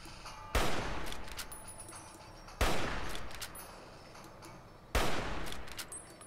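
Three loud, evenly spaced gunshots from a firefight in the game Fallout: New Vegas, each a sharp blast followed by a long decaying echo, with no talking.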